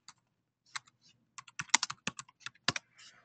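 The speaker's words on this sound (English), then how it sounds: "I'm going to type in Steve Jobs." A computer keyboard is typed on in short, uneven bursts of crisp, close keystrokes while a search query is entered, in an otherwise quiet room with no speech.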